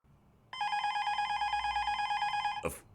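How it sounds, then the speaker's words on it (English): A telephone rings late at night with one sustained electronic ring lasting about two seconds, fairly loud and alone, ending in a short click. "A phone call? At this hour?"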